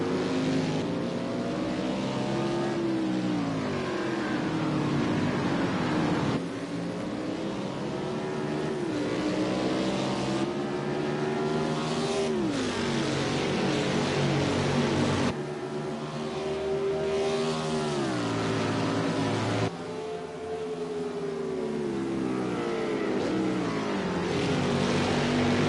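Race cars scream past one after another, high-revving engines rising and falling in pitch as each one approaches and passes, forming a loud, continuous stream of engine noise.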